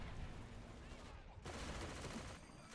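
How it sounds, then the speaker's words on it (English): A French Hotchkiss machine gun fires in the WW1 mod of Men of War: Assault Squad 2. The fire is a faint, steady, rapid rattle heard at a distance, with a brief dip partway through. "What is this machine gun? It's a Hotchkiss, so it's a French machine gun."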